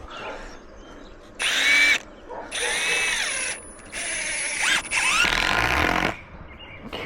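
A power drill drives screws into a wooden swingset frame in four loud, close bursts of whirring, each lasting about a second with short pauses between.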